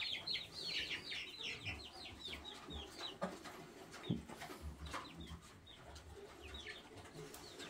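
Chickens clucking and chirping in quick repeated bursts, with occasional soft thuds and rustling of a farmyard; moderately close, no talking.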